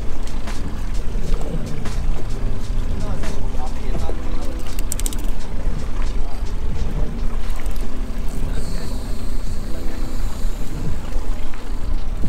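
Steady wind buffeting and water slapping around a small fishing boat on choppy sea, with a constant low rumble and broadband rush throughout.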